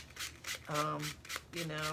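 Sandpaper rasps lightly across a painted surface in short scuffing strokes, with a voice briefly heard between them.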